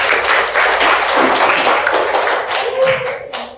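Classroom students applauding together, a dense wash of many hands clapping at steady loudness for a few seconds, with a voice briefly heard over it near the end.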